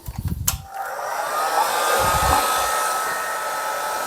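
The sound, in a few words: heat gun blowing hot air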